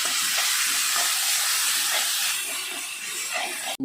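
Crushed garlic, ginger and green chillies sauté in a pan for a Malayalam-style mutton curry, giving a steady, close, loud sizzling hiss that runs unbroken and stops abruptly at the end.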